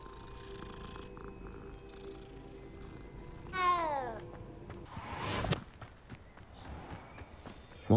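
A cat in the video game Hogwarts Legacy gives a short, clear meow in the middle, along with soft purring, footsteps and a brief burst of noise, over quiet game ambience.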